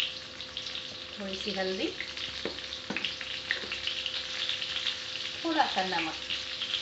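Pointed gourd (parwal) sizzles while frying in a pot with turmeric and salt, a soft steady crackle with a few stirring knocks, under a voice speaking.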